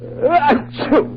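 A drawn-out, exaggerated sneeze from an old radio comedy broadcast, a rising voiced wail followed by a second shorter burst, loud and close over a low steady hum.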